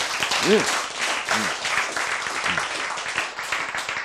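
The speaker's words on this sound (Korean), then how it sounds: "박수!" An audience claps at a Korean talk on choosing life, a steady wash of applause running the whole time while a voice speaks over it.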